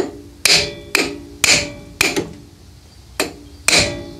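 A lead hammer raps on an ignition part of a 1960s Sears tractor, giving six sharp, close metallic taps in an uneven rhythm with short quiet gaps between them and no talk.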